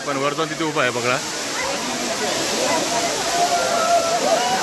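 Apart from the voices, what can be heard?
waterfall at Malshej Ghat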